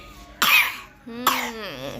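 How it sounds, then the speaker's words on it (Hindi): A young girl coughs twice in quick succession, close and fairly loud, with a brief vocal trailing sound after the second cough. "खांस रहा है बिटिया हमारा"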